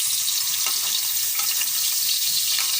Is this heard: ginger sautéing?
yes